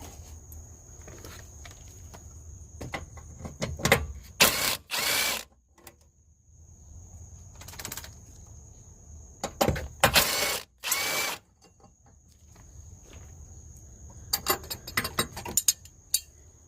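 Two 10mm bolts are worked loose from the starter bracket on a 2005 Toyota Sienna, with bursts of power-tool whirring and ratcheting clicks separated by quiet pauses, close by, with no talking.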